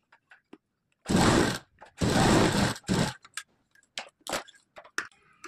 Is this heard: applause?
no